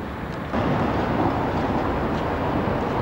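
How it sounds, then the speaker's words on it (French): A Budapest tram passes in the street, its rumble rising abruptly after half a second into a loud, steady rolling roar that holds to the end with no voices. "Le tramway de Budapest."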